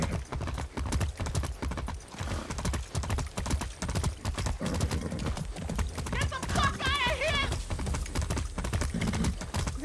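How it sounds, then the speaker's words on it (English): Horse hooves clip-clop steadily in the open-world game Far Cry 6, a close, rhythmic beat running the whole time beneath talking, with a short whinny-like call partway through. "That's a good horse."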